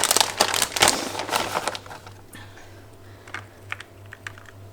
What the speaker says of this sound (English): I'm just going to chuck some foil on it now